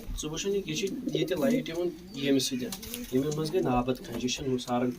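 Pigeons from a fancier's loft in Bijbihara coo in repeated low, throaty phrases close by, their calls overlapping and continuous through the stretch, with steady rising and falling warbles and a faint background hum.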